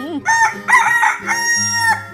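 A cartoon rooster crows loudly and close up in a drawn-out, harmonic cock-a-doodle-doo, rising and falling over about two seconds with no talking over it.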